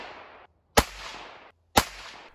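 A 17 HMR rifle with a 17-inch barrel fires through a chronograph outdoors, two loud, sharp cracks about a second apart, each with a short trailing echo and no talk.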